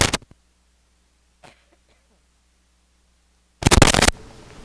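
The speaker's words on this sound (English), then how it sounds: "Sorry, I just had a cough." One sharp, loud cough bursts out near the end after a quiet stretch with a faint breath or two, close to the microphone.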